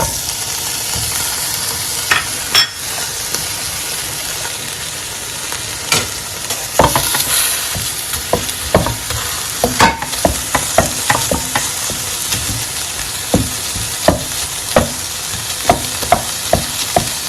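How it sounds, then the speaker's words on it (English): Corned beef sautéing in its own oil in a pan for a beetroot stew: a continuous loud sizzle broken by frequent sharp spatula scrapes and clacks against the pan, growing busier toward the end. "let's go ahead and saute our corned beef"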